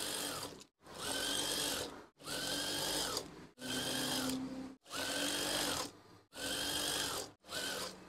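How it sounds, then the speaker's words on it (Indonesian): A sewing machine stitches curtain fabric for a swag curtain in seven rapid buzzing runs broken by brief stops, a steady close mechanical whir throughout, with no talk. "Kemudian saya akan menjahitnya."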